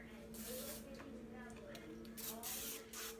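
Cooking spray hissing onto a pizza pan in a home kitchen, a few short bursts of spray over low steady background noise.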